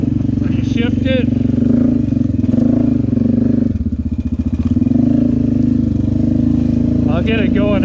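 A Honda Rincon ATV with a 3-speed transmission idles and runs with a steady engine drone, dipping briefly in pitch as it shifts gears midway, while someone talks over it.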